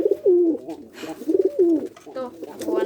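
Pigeons coo in repeated rolling phrases, close and fairly loud, with some wing or shuffling noise between calls; the birds are kept by a fancier, some wearing leg rings.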